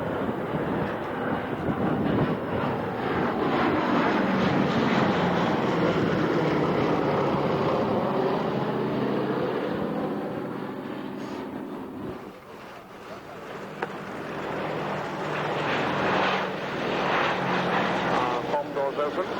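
Large propeller aircraft passing overhead at the Duxford autumn airshow, a broad droning engine roar that swells, dips briefly, then builds again, loud and continuous with someone commentating over it.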